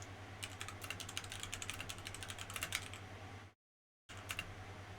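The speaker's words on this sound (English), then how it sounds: "I'm typing it." Keys tap on a computer keyboard in a steady, quiet stream of clicks over a low hum, with a brief dropout to silence near the end before the typing resumes.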